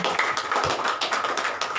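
Congregation applauding during a church service, a dense steady patter of many hands clapping at once, continuous and fairly loud throughout with no voices on top.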